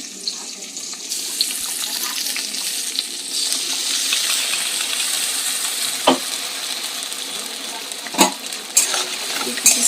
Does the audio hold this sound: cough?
no